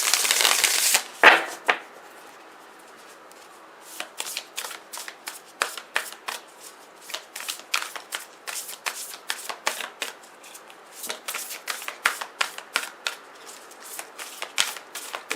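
Oracle cards shuffled by hand close up, a dense riffling burst at the start followed by a long run of quick, irregular card snaps and slides, crisp and fairly loud with no talking.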